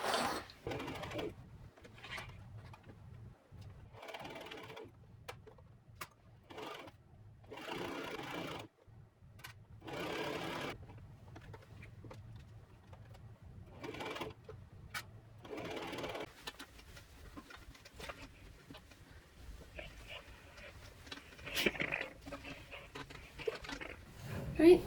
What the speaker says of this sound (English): I'm just going to sew down where I opened up the side seam, and then around the pocket